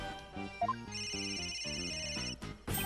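A cell phone ringtone in Ace Attorney: Dual Destinies plays a bright, repeating electronic melody, clear and close, ending in a sharp burst of noise.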